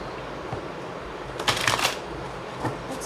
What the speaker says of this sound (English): Shuffling your cards.